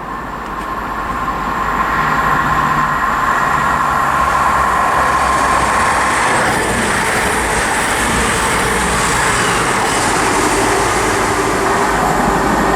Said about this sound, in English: passing through now is an East Midlands Railway service to Corby from London St Pancras